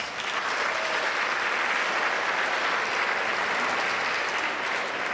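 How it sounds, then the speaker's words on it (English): Sustained applause from a crowd, dense and steady clapping that fills the whole stretch without a break. "So can you give yourselves a round of applause?"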